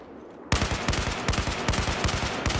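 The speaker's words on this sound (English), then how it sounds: "I am getting shot at really hardcore right here" Battlefield 4 gunfire bursts in after a quiet start: rapid, dense automatic shots rattle on loud and close in a continuous barrage.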